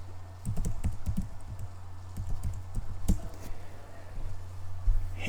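Typing text on a computer keyboard in a note annotation app: quick clusters of light key clicks in irregular bursts, close and fairly quiet, over a steady low hum.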